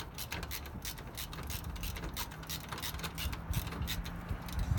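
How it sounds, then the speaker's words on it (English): A ratchet clicks rapidly and continuously while tightening the belt tensioner on a 2009 Subaru Forester, a quiet, close, steady rhythm of pawl clicks with faint low mechanical rumble beneath. "So I'm just going to keep tightening this up until we gain some tension on it,"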